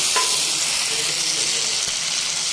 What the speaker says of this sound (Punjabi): ਹੁਣ ਆਪਾਂ ਇਹਦੇ ਵਿੱਚ ਟਮਾਟਰ ਦੀ ਪਿਊਰੀ ਪਾ ਦਾਂਗੇ